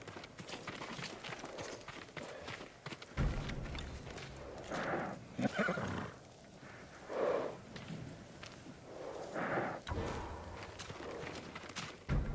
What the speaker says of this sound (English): Get to the horses. The samurai horses.